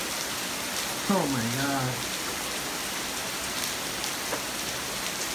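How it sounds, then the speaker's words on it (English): Steady heavy rain hammers down during a severe night storm, a constant wash of close rainfall, while a person exclaims briefly partway through. "Severe rainstorm."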